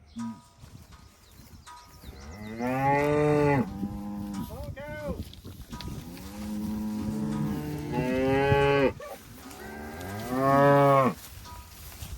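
Cattle on a pasture farm low loudly in three long, drawn-out moos spaced several seconds apart, close by, with a few shorter calls and quieter animal noises between them.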